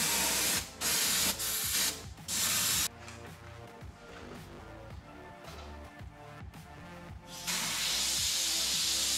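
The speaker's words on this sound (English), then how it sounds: "put a real light coat of this pearl down that main body line" An airbrush sprays a light coat of pearl paint onto a red fish taxidermy mount, with loud hissing bursts at the start and end and a softer, intermittent spray in between.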